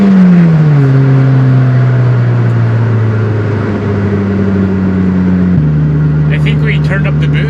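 A 700+ horsepower Mitsubishi Evo 8 with a 6-speed gearbox accelerates hard, its loud engine note climbing and dropping through gear changes as speech-like noise sits underneath.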